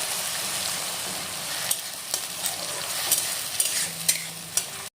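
Onion and green chilli paste is stirred into fried onions in a pan, giving a steady sizzle that runs throughout, with scattered scraping clicks from the spoon, close and moderate, no voices.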